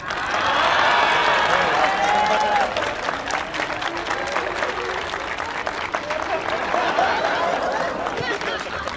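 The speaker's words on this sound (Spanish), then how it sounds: "Aplauso." Live comedy clown show audience applauding, a swell of crowd clapping and cheering that stays steady throughout, with voices and laughter mixed in underneath.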